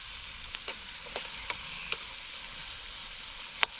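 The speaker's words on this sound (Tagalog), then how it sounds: "Habang nagpiprito tayo sa kabilang ano natin lutuhan" A soft, steady sizzle of food frying in a pan, punctuated by a few sharp clicks and taps of utensils.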